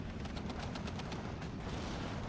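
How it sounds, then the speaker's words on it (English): Rapid, faint bursts of cannon and small-arms fire from a 40mm gun shooting at infantry in the WWII strategy game Steel Division 2, a distant rattling stream under a constant battle din. "40mm is shooting at infantry and not the Sherman"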